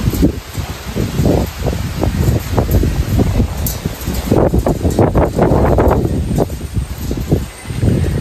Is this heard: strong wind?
yes